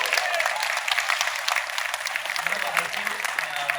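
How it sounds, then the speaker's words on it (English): Steady applause from a film festival audience in Seattle, a dense even patter of many hands clapping, with a faint voice underneath toward the end. "We can give John an applause."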